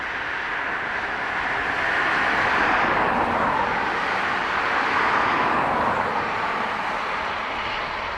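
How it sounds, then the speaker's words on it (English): A Boeing 777 airliner passes overhead at Dublin Airport, a broad steady engine roar that swells toward the middle and holds loud throughout, with no voices. "And then the 777. You know, that's overhead."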